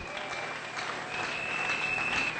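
A church congregation applauds during a sermon, a continuous patter of many hands that swells slightly and sounds somewhat distant in the room.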